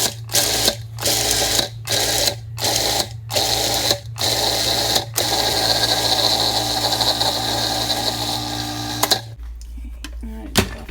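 Food processor pulsing basil pesto with Romano cheese: a loud motor whirs in several short bursts, then runs in a steady continuous spin before cutting off, close to the microphone.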